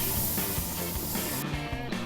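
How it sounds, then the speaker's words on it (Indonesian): Varnish sprayed from a can onto a natural-coloured palm frond in a craft workshop, a continuous close hiss that fills the clip with a slight shift near the end. "diberi semprotan pernis untuk memberikan kesan mewah"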